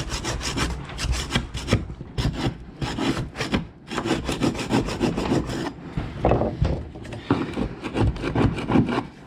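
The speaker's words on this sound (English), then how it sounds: "This is where the screwdriver comes in handy to make sure you get rid of any loose paint under there." Repeated rough scraping strokes as a screwdriver scrapes loose paint from the bilge of a boat, with rasping bursts in a steady back-and-forth rhythm, close and loud, with no voices.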